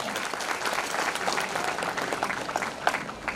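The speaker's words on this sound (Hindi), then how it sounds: "एक बार जोरदार तालियों के साथ।" An audience at a hostel-day function in Kanker applauds a guest invited onto the stage, steady crowd clapping throughout the short stretch.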